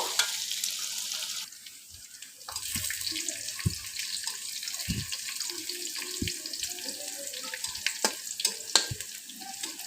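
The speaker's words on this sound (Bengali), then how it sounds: "পেঁয়াজটা একটু ভাজা ভাজা করে নেব" Chopped onions fry in hot oil with cumin seeds in a pan for a Bengali drumstick, magur fish and mango curry. A bright, steady hiss carries scattered soft pops and clicks, close by with no voices.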